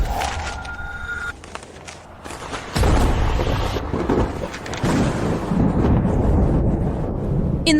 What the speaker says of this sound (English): why is there thunder and lightning?